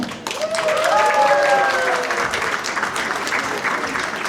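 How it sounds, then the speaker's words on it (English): An audience at a Losar New Year celebration in Paris claps in a dense, sustained wash of applause. Voices and a brief cheer rise over it early on, then the clapping holds steady to the end. "So let's give her a round of applause to Rinso."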